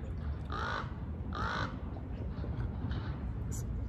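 Crows caw in a park, giving two loud harsh calls close together followed by a few fainter ones, over a steady outdoor background hiss.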